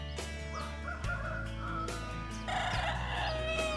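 A rooster crows loudly and nearby beside rice fields, with clucking and other fowl calls around it. No one speaks.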